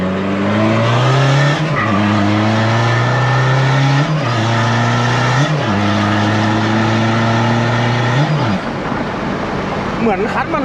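A van on a test drive brakes hard again and again, tires squealing over the engine's rising and falling drone, while people talk inside.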